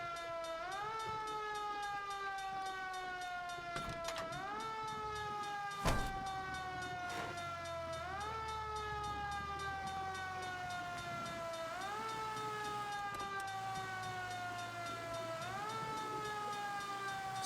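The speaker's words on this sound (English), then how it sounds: "Siren sounds really weird." A wailing emergency siren in the L.A. Noire video game, rising and falling in repeated sweeps roughly every two seconds, slightly off-kilter and half-hearted, with a sharp thud midway and a low rumble beneath.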